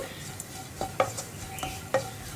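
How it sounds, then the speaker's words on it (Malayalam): A spoon stirs spice powders through hot oil in a pan over a low flame for okra curry. Soft scraping and a few light metallic taps come over a steady low sizzle, close and fairly quiet, with no talking. "ഇനി പൊടികൾ 1 മിനിറ്റ് ഒന്ന് നന്നായിട്ട് ഇളക്കി കൊടുത്തിട്ടുണ്ടെങ്കിൽ നമ്മുടെ ചട്ടിയുടെ ചൂടും എണ്ണയുടെ ചൂടും ഒക്കെ കൊണ്ട് നന്നായിട്ടൊന്ന് പൊടികൾ കുക്കായിട്ട് വന്നോളും"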